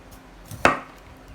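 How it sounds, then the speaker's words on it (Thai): A Rhino premium kitchen knife slices through a lime on a cutting board, giving one short sharp chop with a quick crisp thud, heard alone in a quiet room. "มาลองหั่นมะนาวดู"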